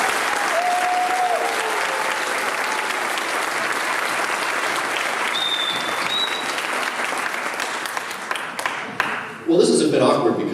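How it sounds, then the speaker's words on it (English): A convocation ceremony audience applauds Masters of Communication graduates with sustained, even clapping across the hall, a few whistles rising briefly above it, before the clapping thins and a nearby voice and handling noise take over at the end. "One more round of applause, please."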